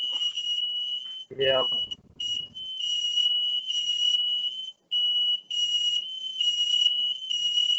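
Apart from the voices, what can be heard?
smoke detector alarm beeping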